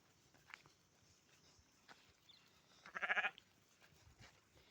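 A sheep bleats once, a short wavering cry close by, against quiet rustling and a few soft footsteps.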